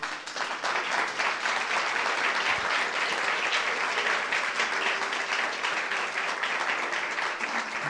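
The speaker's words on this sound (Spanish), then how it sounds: "Le damos un fuerte aplauso al Señor." A church congregation applauds during a Spanish-language eschatology study service, a steady, dense wash of clapping that holds at an even level across the whole stretch, with faint voices underneath.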